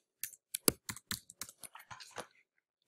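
Someone types a short word on a computer keyboard, about a dozen crisp, separate key clicks at an uneven pace, close up in a quiet room, with no talking.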